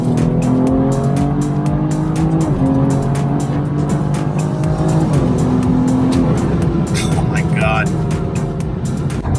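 BMW F30 340i with a stage 3 transmission tune accelerates hard from 60, its engine a loud, continuous drone whose pitch climbs steadily and dips at two gear shifts, heard from inside the cabin.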